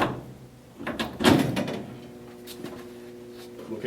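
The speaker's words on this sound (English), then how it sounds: "First, open the door for the machine." Door of a GF12 machine swung open, with a clear mechanical clunk early on followed by lighter rattles and handling noises close by.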